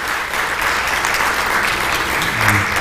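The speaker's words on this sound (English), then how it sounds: "I think you need a round of applause." A symposium audience applauds nurses, a steady, dense wash of many hands clapping, sustained and even throughout with no pauses.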